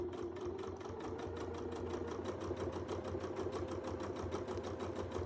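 A sewing machine runs steadily through free-motion quilting, putting in tacking stitches with a fast, even mechanical needle patter. It sounds close and moderately quiet, with no voices.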